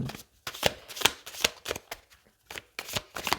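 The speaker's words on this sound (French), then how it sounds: "Tiens, j'ai envie de prendre une petite carte." Tarot cards riffled and shuffled by hand before one is drawn from the deck, several quick papery bursts with brief pauses between them, close and crisp, and no talking during the shuffling.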